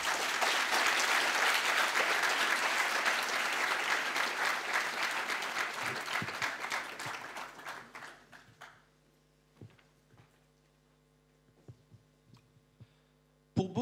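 Conference audience applauding loudly and steadily for about eight seconds, then the clapping thins to scattered claps over a low hum.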